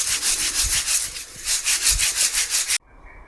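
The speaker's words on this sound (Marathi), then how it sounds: "आता अशाच प्रकारे बाकीचे सगळे पोहे आपल्याला चाळून घ्यायचे" Dry flattened rice (poha) being shaken in a sieve, a rhythmic rasping swish repeating several times a second, close and fairly loud, stopping abruptly near the end.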